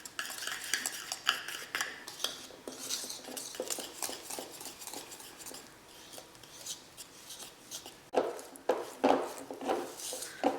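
Sifted flour being stirred into cake batter in a bowl, a steady run of close scraping and stirring strokes with light clinks of utensil against the bowl, pausing briefly before a few firmer strokes near the end.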